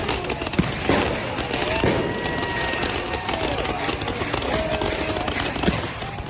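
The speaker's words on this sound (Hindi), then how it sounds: "प्रदर्शनकारियों ने पुलिस की तरफ आतिशबाजी कर दी।" Fireworks fired by protesters toward police during a street clash, a steady crackle of bangs and pops with sharp bursts scattered over a dense roar of crowd noise, plus occasional whistling streaks.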